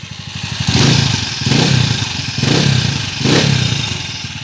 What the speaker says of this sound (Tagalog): dahil maingay yung timing gear na nilagay natin